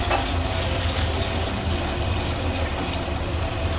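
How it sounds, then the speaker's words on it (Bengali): Sour yogurt being stirred into a cooking mixture in a pan for a Bengali-style vegetarian milk dish, with a steady, continuous scraping and sizzling that stays level throughout, close up and with no talk. "টক দইটা এর সঙ্গে ভালো করে একটু মিক্স করে নিই"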